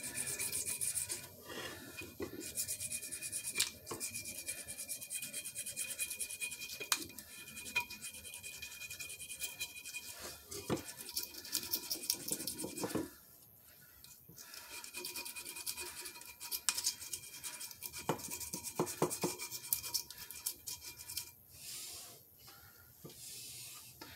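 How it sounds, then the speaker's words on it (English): Blade scraping old gasket material off the rear Dana 44 differential of a 2003 Jeep Wrangler TJ: close, steady rasping strokes worked over a small section, with a brief pause midway and sharper scrape bursts near the end. "Blade's getting all gunked up with the old gasket material."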